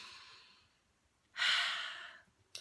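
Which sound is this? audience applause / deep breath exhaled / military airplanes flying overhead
deep breath exhaled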